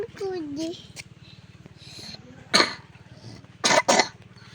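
A young child with a cold coughs several times in short, sharp bursts over a steady low hum, with a brief vocal sound from the child at the start.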